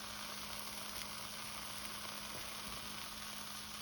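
Steady, close sizzling of pork roll frying in a hot pan, a continuous crackling hiss with no talking.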